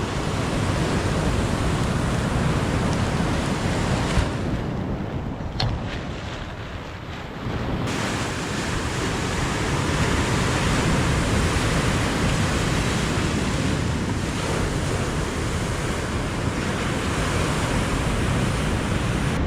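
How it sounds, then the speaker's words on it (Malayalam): Sea waves roll onto a storm-damaged shore lined with broken houses, a loud continuous roar of surf mixed with heavy wind buffeting, briefly easing in the middle before surging again; no one speaks. "ഇപ്പോൾ കടൽ കുറച്ചൊന്ന് കുറഞ്ഞിട്ടുണ്ട് കഴിഞ്ഞ ആഴ്ചേനൊക്കെ അപേക്ഷിച്ച് നോക്കുമ്പോൾ"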